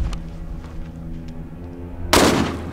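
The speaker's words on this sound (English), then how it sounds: "Good shooting, Felix." A single loud gunshot fired during a hunt cracks out near the end, a sudden sharp blast with a short rumbling tail, following a stretch of quiet outdoor background.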